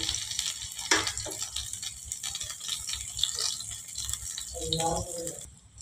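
A paratha roasting on a hot pan gives a soft, continuous sizzle with light scraping and rattling of the spatula, heard close. Someone talks intermittently over the cooking sounds.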